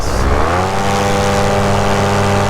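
A paramotor engine runs loud and close in flight, a steady buzzing drone with strong layered harmonics that holds a constant pitch throughout, with no voices.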